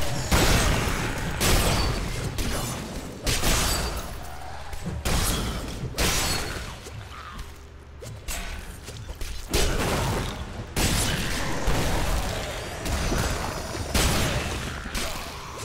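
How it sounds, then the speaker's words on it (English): Repeated heavy explosions boom and crackle in Diablo 3, a barbarian blasting groups of enemies, loud bursts arriving every second or two over dense game effects, with no speech. "As you can see, nice groups being taken out by the explosion."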